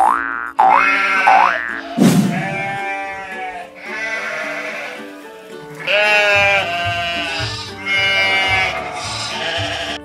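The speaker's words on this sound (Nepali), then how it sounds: "sheep" Sheep bleat repeatedly, wavering cries coming one after another at close range, with a springy boing-like sound early on.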